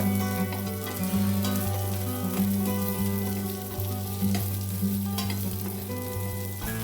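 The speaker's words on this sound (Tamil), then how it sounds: "இதையும் ஆட் பண்ணி நல்லா மிக்ஸ் பண்ணி விடுங்க." Small onions stirred in a pan for garlic chutney fry with a loud, steady close sizzle, with soft scrapes of the stirring spoon repeating through it and no talk.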